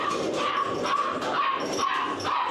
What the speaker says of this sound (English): these dogs are found on the street, and they are Great Dane puppies